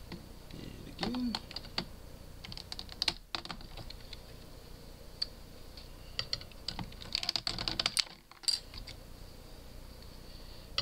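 Keys clatter on a sticky computer keyboard in scattered bursts of close, sharp taps and clicks, with pauses between runs and some faint background voice.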